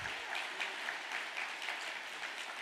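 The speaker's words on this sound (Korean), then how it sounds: "감사의 박수를" An audience gives applause of thanks at a lecture on the history of the Unification Church in Japan, a steady, moderately distant patter of many hands clapping that continues evenly throughout.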